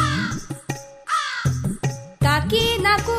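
A crow caws in loud, close, harsh bursts, several calls in an irregular rhythm with short gaps between them.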